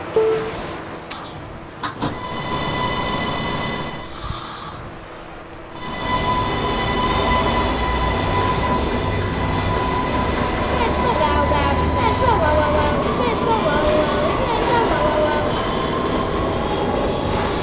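In a video game, a Stepford Express subway train rumbles steadily, with clattering wheels and a high door or brake tone early on, loud and continuous throughout.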